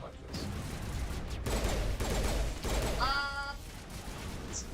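Weapon fire in a sci-fi video game: a dense run of rapid, close shots lasting about a second and a half, followed by a brief electronic tonal whine, with no talking.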